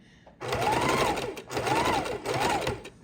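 A sewing machine stitches fabric scraps in three close bursts of steady whirring, with short pauses between runs and no speech.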